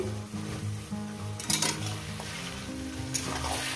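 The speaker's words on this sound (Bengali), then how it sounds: "দু তিন মিনিট ভেজে নেব দু মিনিট তো বন্ধুরা এরপর দিয়ে দেবো আমি এখানে মটন" Mutton fries in a pan for mutton curry with a moderate sizzle over a low steady hum, swelling into louder bursts of hissing and stirring twice.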